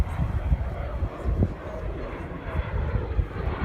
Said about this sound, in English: there's a fighter jet.